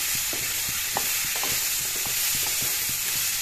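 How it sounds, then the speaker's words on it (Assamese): Pumpkin curry cooked without onions sizzles in a pan while being stirred, with a steady frying hiss and repeated scraping stir strokes close by, no talking. "এইখিনি 1 মিনিট সময় ভাজিম মই"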